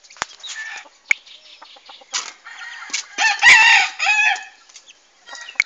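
Farmyard chickens including a gold hen, with close clucking, short squawks and a loud rooster-style crow in the middle, interspersed with brief sharp knocks and pauses.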